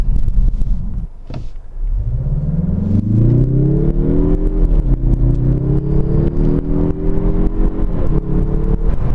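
A 2021 Mazda 3 2.5 Turbo hatchback accelerates hard in sport mode, its engine note rising loud and close inside the cabin, dipping briefly at an upshift and then climbing again, without talk.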